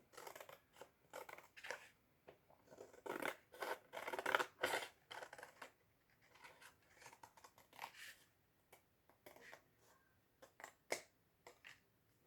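Scissors snip through a paper Easter egg design, close and quiet, in a string of crisp irregular cuts, some in quick bursts and others spaced out with short pauses between.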